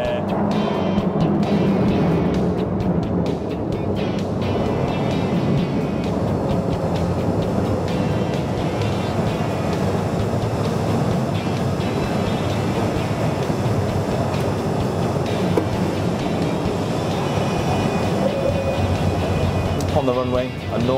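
An HAL-BAE Systems Advanced Hawk jet rolls down the runway on landing, a steady, loud roar and rumble heard from inside, running throughout beneath someone talking.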